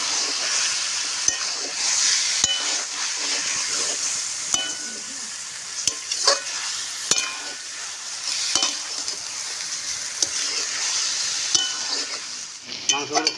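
Chicken pieces sautéing with spices in a pan for biryani, a continuous close sizzle broken by regular sharp clinks and scrapes of a stirring spoon against the pan; no talking.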